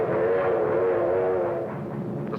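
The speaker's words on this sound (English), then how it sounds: "Trains were assembled on the spot, loaded with freight and sped forward." Freight trains speed forward in a steady, loud rolling roar with a sustained droning tone on top, continuous and close, without any voices.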